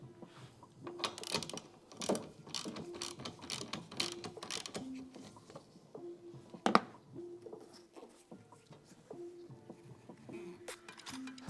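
Ratchet tightening 17 mm nuts on a car wiper arm, quick rhythmic clicking strokes in short bursts, close and fairly quiet, with no talking.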